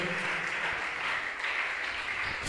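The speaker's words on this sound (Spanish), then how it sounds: "Dele aplausos a él en el nombre glorioso de Dios" A church congregation at a sermon on faith applauds with steady dense clapping, moderately loud and continuous throughout, with no voice over it.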